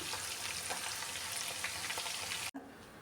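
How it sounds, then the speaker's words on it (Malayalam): Chicken marinated with pepper powder sizzles in hot oil for chicken biryani, a dense, steady crackling fry that is close and continuous and cuts out briefly near the end. "എണ്ണയിലേക്ക് ഡയറക്റ്റ് ഇട്ട് ഫ്രൈ ചെയ്യുകയാണ്"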